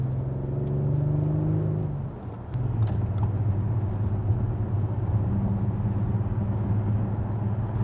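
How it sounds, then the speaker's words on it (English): A B9 Audi SQ5 with a resonator delete cruises on a freeway, giving a steady low exhaust drone and road rumble heard from inside the fairly quiet cabin, with a slight shift in tone partway through. "It's just kind of there, reminding you that there's a nice exhaust note."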